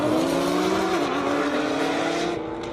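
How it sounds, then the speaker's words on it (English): Nissan GTR race car of about 1,600 horsepower launching on an airstrip, its engine roaring with a rising, sustained tone and a hint of tire squeal, loud and continuous. "That GTR transmission is not going to be happy with the way he took that launch."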